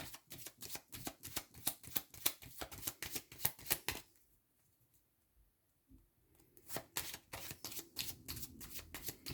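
Tarot cards shuffled by hand, a rapid, close run of crisp riffling slaps, a pause of about two seconds of near silence, then the quick shuffling resumes, soft overall.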